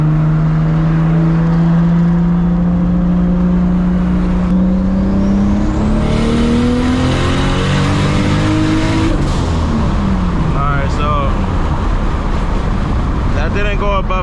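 A loud, close straight-piped Toyota Supra pulls hard through 4th gear, its engine note climbing steadily before an upshift-like break and more revving, with a voice speaking underneath.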